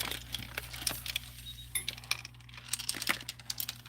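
Small beads clinking and rattling as they are handled inside a drawer, a quiet scatter of light hard clicks and jangles with no talking.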